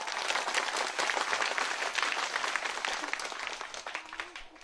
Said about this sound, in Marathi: तर हे खरं तर तुम्ही सगळ्यांनी या संयोजकांसाठी टाळ्या वाजवल्या पाहिजे जोरदार.